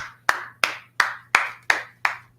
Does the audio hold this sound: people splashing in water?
no